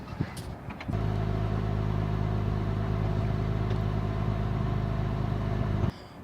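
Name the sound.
Honda Accord 3.0 engine running, exhaust check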